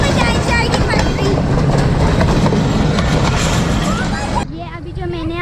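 A voice imitates an approaching train running on old tracks, making a loud, dense, rhythmic clattering rush that holds steady. Near the end it drops into quieter, voice-like wavering tones.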